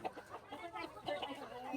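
A chicken clucks in a quick, choppy series of short calls, fairly close and moderately loud, with no talking.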